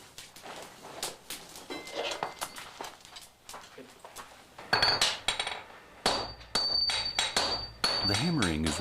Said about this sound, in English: The hammering is repeated several times.